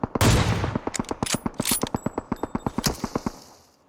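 Rapid bursts of automatic gunfire from PUBG Mobile on the Erangel map crack close and loud in a fast rhythmic string of shots, tapering into a fading echo.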